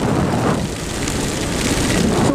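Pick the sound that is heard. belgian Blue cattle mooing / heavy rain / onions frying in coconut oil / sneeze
heavy rain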